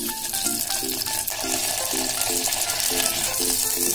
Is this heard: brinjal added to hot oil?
yes